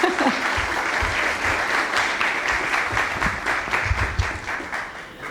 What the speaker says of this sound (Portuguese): Vamos dar uma salva de palmas para os dois.